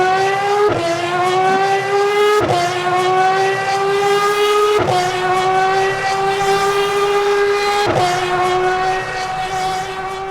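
A high-revving race car engine in the racing simulator Le Mans Ultimate screams steadily, its pitch climbing through each gear before sharp drops at every shift, loud and close throughout.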